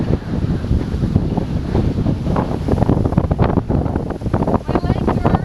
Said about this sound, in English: it doesn't make for good bike riding when you're heading into the wind